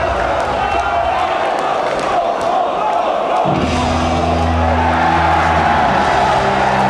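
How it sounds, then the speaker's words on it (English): Crowd noise roars through a British independent wrestling show as entrance music starts midway, a low droning tune rising under the continuous broad cheering of the arena audience. "the crowd goes wild for the entrance music"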